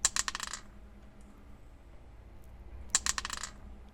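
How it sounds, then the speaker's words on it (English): Dice shaken and released onto a tabletop as a sound effect, two identical bursts of sharp clattering, each a quick rattle of hard bouncing clicks, separated by a pause of near silence. "I would like the sound of the shaking around in the hand a bit, and then releasing onto a tabletop or floor or something like that."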